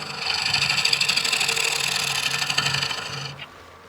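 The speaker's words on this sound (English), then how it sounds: "See there, just scraping that back and forth, and it doesn't leave us a super clean surface." A wing-ground gouge scrapes back and forth across spinning wood on a lathe, giving a loud, steady rasping hiss for about three seconds before it cuts off abruptly.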